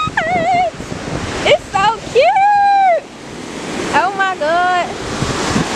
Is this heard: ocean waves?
yes